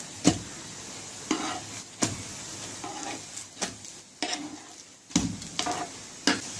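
Radish and egg pancakes pan-frying under a lid, a soft background sizzle broken by regular sharp knocks and scrapes roughly once a second.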